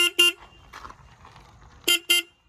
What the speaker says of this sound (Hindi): इसका हॉर्न भी काफ़ी अच्छा है